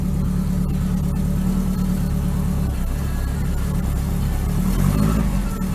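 A Rover P6 engine with the choke pulled partly out runs steadily and close up, a continuous low rumble with a slight rise in revs near the end and no talk over it.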